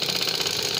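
A simple household sewing machine runs steadily while stitching a double top stitch on fabric, a continuous close mechanical whir and rapid needle chatter with no breaks and no voices.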